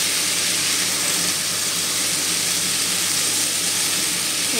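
Papaya pieces fry in a pan, giving a steady, loud, even sizzle and hiss that carries on without a break and with no talking.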